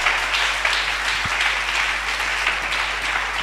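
A church congregation applauding and cheering the Lord during a French-language healing service, sustained steady clapping from a large crowd, loud and even throughout.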